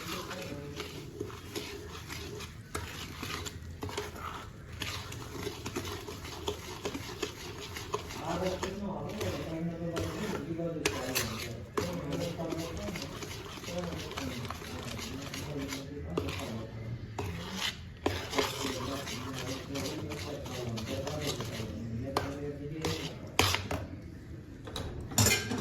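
Adadiya pak mixture being stirred in a pan on a low gas flame, with steady scraping, rubbing and clinking under continuous talk.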